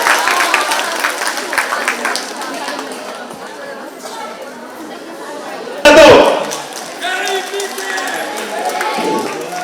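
Audience applause and crowd chatter fill a hall at a state-level Savitribai Phule birth anniversary celebration, with dense clapping early on that thins into murmuring voices and a brief louder burst near the end.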